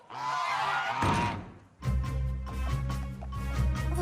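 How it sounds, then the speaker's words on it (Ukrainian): Cartoon guard geese honk loudly in a noisy burst in an animated episode, pause briefly, then break into repeated harsh false-alarm honks that carry on close by. "чергова фальшива тривога сторожових гусей"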